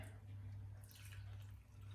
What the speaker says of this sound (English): So first I press the French press and then I will just pour